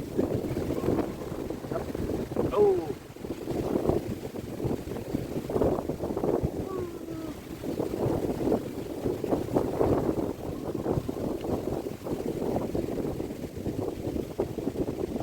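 Strong wind buffets the microphone at the Phu Lert skywalk viewpoint in Khao Kho, a loud continuous roar with surging gusts and no speech.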